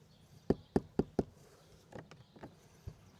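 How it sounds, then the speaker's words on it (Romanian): Four firm, evenly spaced knocks on a door at a campsite, followed by a few lighter, scattered taps and knocks nearby. "Batem la ușă să ne deschidă"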